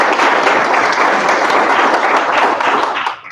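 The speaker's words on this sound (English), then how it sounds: "So a round of applause for Matt." Meetup audience at a Python user group gives a round of applause, a dense, steady wash of many hands clapping that fades out at the end.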